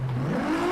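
Ferrari LaFerrari V12 engine revving in Driveclub, a brief steady rising drone that climbs in pitch, heard alone.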